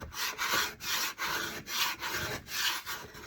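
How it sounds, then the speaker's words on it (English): A scraper rasping a double coat of paint off a wooden board, in rapid rhythmic back-and-forth strokes, loud and close with brief gaps between passes. "Okay, I'm going to start scraping"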